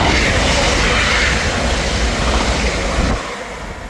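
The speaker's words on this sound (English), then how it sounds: "Passing through now is the 1537 Scotrail service from Aberdeen to Glasgow Queenshay." A ScotRail service from Aberdeen to Glasgow Queen Street rushes through Broughty Ferry station, a loud, close, broadband roar that holds steady before dropping off near the end.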